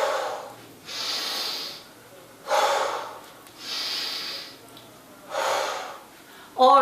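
Heavy rhythmic breathing during a gym-free squat workout, alternating loud inhales and forceful exhales roughly every second and a half, close to the mic and alone.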